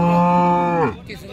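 A cow at the Sangola cattle market moos once, a loud, drawn-out low call lasting about a second that breaks off into quieter market background.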